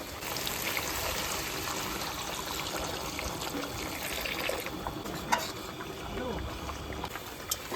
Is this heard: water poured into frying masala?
yes